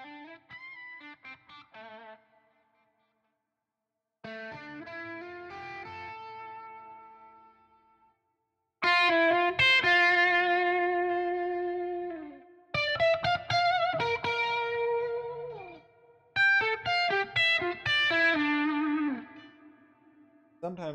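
Synthwave phrases from the Output Arcade sample instrument: a run of layered, effected synth and keyboard loops, heavy with echo and distortion, coming in bursts with short gaps between them and growing denser and louder toward the end.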